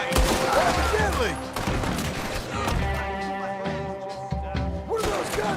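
Red Dead Redemption 2 gunfire, scattered shots and thuds over a loud continuous mix of game music and ambience, with a voice talking at times.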